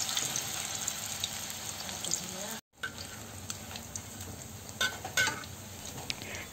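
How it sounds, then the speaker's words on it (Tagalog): Bamboo shoot fritters (ukoy) frying in hot oil give a steady, close sizzling hiss with small crackles, cut by a brief silent break partway through, with no talking. "prituhin lang natin yan for 4 minutes or until golden brown"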